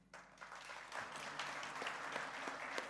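Steady applause from a sizable conference audience, heard at a distance and fairly quiet, sustained throughout without any voices.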